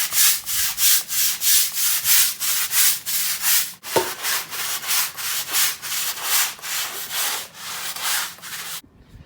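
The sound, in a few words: scrubbing a driveway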